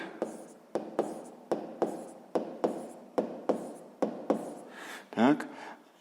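A pen or chalk writes numbers by hand for a sixth-grade maths exercise, giving a regular series of about a dozen sharp taps and short scratching strokes, close and clear, ending in a longer rubbing scrape.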